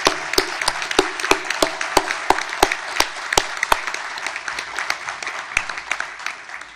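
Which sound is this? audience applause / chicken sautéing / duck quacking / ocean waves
audience applause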